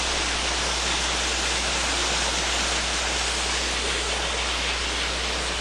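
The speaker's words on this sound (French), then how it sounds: "Nous avons devant la maison une eau qui passe." Floodwater rushes past a house, a dense, constant roar of flowing water that stays loud and unbroken throughout, with no voices.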